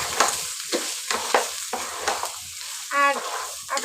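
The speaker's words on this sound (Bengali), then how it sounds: "সব কিছু মিশিয়ে সুন্দর করে তেলের সঙ্গে ভেজে নিব" Carrots, peas, ginger-garlic paste and cumin paste frying in hot oil crackle in a close, continuous sizzle, broken by rhythmic stirring scrapes and a brief metallic clink, with no speech.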